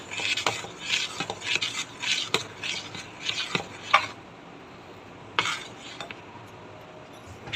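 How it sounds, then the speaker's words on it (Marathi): Dosa batter with salt is mixed in a bowl, making quiet, irregular scraping and clinking strokes that come in a quick run and then trail off into sparse taps. "थोडंसं मीठ टाकून घेऊया छान प्रकारे मिक्स करून घेऊ"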